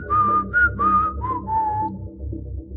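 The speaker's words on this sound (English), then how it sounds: "she whistled the lizard's call" Someone whistles a lizard's call as a bright melodic phrase of several rising and falling notes, loud and close, with no other sounds.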